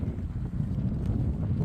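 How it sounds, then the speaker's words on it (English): Wind blows steadily outdoors on a cold evening with a mountain nearby, a continuous low rumbling buffet over the microphone with no pauses or voices. "the wind is picking up"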